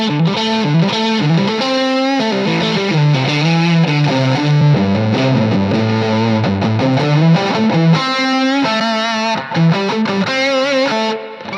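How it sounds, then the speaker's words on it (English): An electric guitar runs through a cheap Rat-style distortion pedal clone with plenty of headroom, playing loud, gritty chords and riffs continuously with no talking. "there's a different distortion in there compared to the Rat, and it has a lot of headroom"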